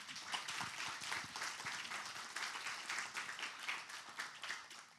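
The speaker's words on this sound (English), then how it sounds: "So let's give a round of applause to our panel." A forum audience claps for a panel discussing fair rent commissions, many quick, distinct hand claps forming a brisk, fairly faint round of applause that continues evenly throughout.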